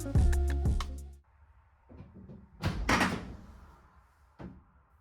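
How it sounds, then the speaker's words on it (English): Camper doors that need greasing give a few short creaks and clunks at close range. A sharp burst comes at the start, followed by scattered knocks and rustling handling noise. "We need to grease the doors."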